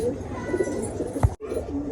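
Pigeons coo inside a loft in low, throaty rolling calls, close and fairly loud, broken by a sharp knock and a brief dropout.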